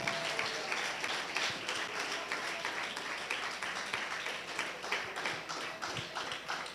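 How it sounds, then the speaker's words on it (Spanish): Sustained applause from a church congregation, dense clapping with no pauses and a steady loudness. "Denle un aplauso fuerte al Rey de Reyes y Señor de Señores."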